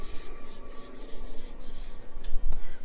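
Rhythmic rubbing strokes of a teacher writing on a classroom board during a Hindi grammar lesson, a quick run of scratchy marks that ends in a firmer tap, close and clear, with no talking.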